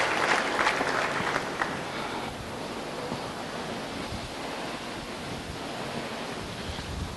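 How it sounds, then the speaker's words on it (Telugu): An audience at a magic show claps in a dense, continuous burst that starts strongest and then settles into a steadier patter, with nothing else standing out. "మీరు చప్పట్లు కొట్టచ్చు, ఏమి అభ్యంతరం."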